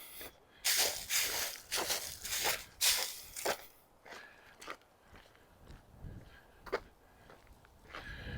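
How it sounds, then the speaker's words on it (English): Footsteps crunch and rustle through dry autumn leaves on a sunny walk through a city neighbourhood, a loud burst of crisp crunching early on, then quieter scattered steps, with no talk. "Ooh, some good crunchy leaves."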